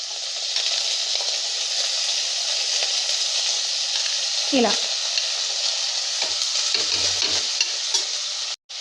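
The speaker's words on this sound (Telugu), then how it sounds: "ఇలా బాగా కలుపుకోవాలండి. వీటిని 1 నిమిషం 2 నిమిషాల పాటు వేగనివ్వాలి." Potato, carrot, onion and green chilli pieces sizzle steadily in a pan for a pot of aloo rice, with a spoon scraping and stirring through them in several bursts toward the end; close and continuous, no talking.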